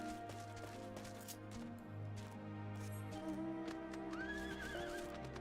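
Horse neighing and hoofbeats from the mount in Final Fantasy XIV, a whinny rising late over steady game music and effects with no one talking.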